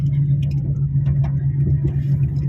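Car ride to the lodging, a steady low engine and road hum from inside the vehicle with faint ticks and rattles, no talk.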